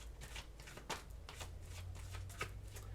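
Oracle cards riffle and slide against each other in a steady, close shuffle, with several sharper snaps of the deck cutting through a low background hum.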